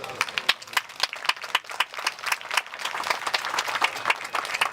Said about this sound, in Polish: Brawami o te brawa proszę.